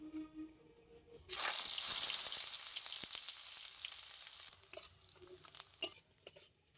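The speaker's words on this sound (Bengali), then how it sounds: "তেল খুব ভালো করে গরম করে নিয়েছি, এবারে দিয়ে দিচ্ছি পেঁয়াজ কুচি পরিমাণ মতো।" Chopped onions hit hot mustard oil with a sudden loud, hissing sizzle that holds steady for several seconds and then eases, cooking for a rohu fish curry with Malabar spinach. Faint clatters of stirring follow as the crackle settles.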